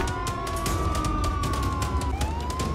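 A police siren in the game Contraband Police wails in a steady, slowly rising and falling tone, then shifts pitch abruptly near the end, over a low engine rumble.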